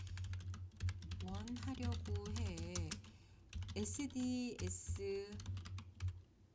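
Quick, light keystrokes clatter on a computer keyboard as a prompt is typed into ChatGPT, heard close and steady beneath someone speaking Korean throughout.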